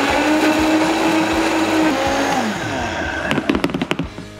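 A Vitamix blender whirs loudly through a batch of tomatillo salsa verde, its motor pitch dropping partway as the blend thickens, then slowing into a few uneven pulsing bursts before winding down.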